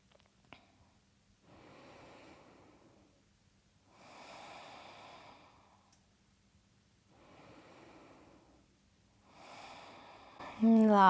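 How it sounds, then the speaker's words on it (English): Slow, deep breaths during a yoga session, four soft drawn-out inhales and exhales spaced evenly a couple of seconds apart, close and quiet in a still room. "take a few nice slow breaths here"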